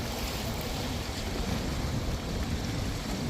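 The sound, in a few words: pilot boat moving on the sea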